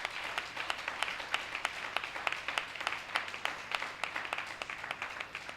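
A church congregation applauds the Lord, a steady spread of many hands clapping at moderate volume, sounding somewhat distant and continuing throughout.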